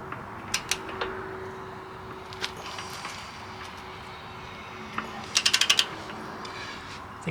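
A spanner working a corroded bolt loose on a Honda Blackbird motorcycle gives scattered faint ticks, then a quick close run of about five sharp ratcheting clicks near the end.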